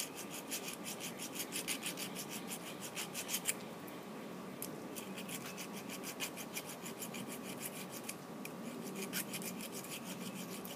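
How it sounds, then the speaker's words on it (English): A hand file sharpening a Harbor Freight ship auger screw bit, rapid, evenly spaced rasping strokes close up, pausing briefly and then resuming in bursts. "So I put that up against the screw bit there, and I'll match that angle. And we'll just sharpen that up."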